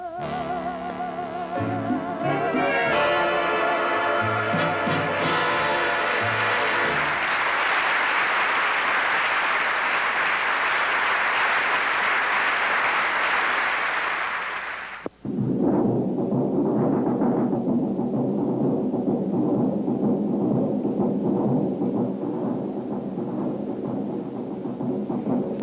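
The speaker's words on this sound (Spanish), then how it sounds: "Estos aplausos, todos estos clamores son para otro de los cinco grandes triunfadores del 65" Music from a 1965 Latin variety show ends and gives way to a long burst of loud audience applause and cheering, which keeps going with a changing texture to the end.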